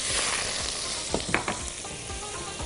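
Onion sizzling as it is added to a hot pot for a smoked chicken with potatoes dish, a loud steady frying hiss with a few brief stirring clatters, close up and alone.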